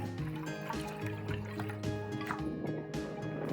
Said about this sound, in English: Add 1 more cup of water.